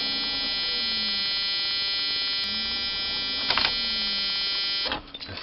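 A Jeep Cherokee XJ Mk1 with a 4.0 petrol engine sounds its immobiliser alarm buzzer, a steady, loud, harsh tone that holds for about five seconds. It then breaks off into rustling at the end.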